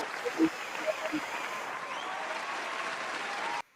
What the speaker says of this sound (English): Let me give you a round of applause, man.